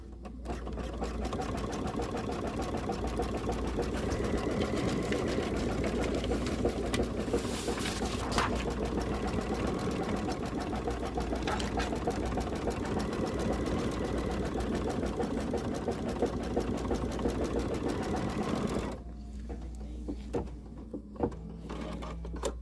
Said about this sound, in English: And it's going to stitch our first decorative stitch.